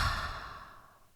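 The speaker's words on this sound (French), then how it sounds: "et souffle énergiquement par la bouche" A single forceful breath pushed out through the mouth during a relaxation exercise. It sounds soft and breathy, fading away steadily with nothing else heard.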